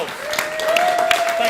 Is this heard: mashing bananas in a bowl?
no